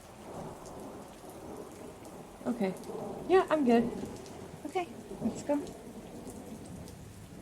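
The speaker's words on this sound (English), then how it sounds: "the door opens to the loud crack of thunder overhead. Rain beating down on the cobblestone streets outside." Rain drums on cobblestone streets under a city thunderstorm, a steady background hiss with low rumbling. Several people talk briefly over it at moderate level.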